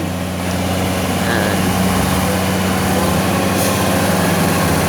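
Two farm tractors work a soil-filling site beside a temple, their engines running as a steady, loud drone with a low rumbling hum that holds throughout, with no talk.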